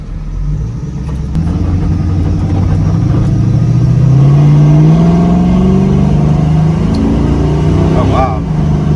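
A 1967 Camaro SS hot rod, rebuilt from an RS, accelerates hard with a loud, rising engine roar that climbs steadily in pitch, heard from close by with people talking over it.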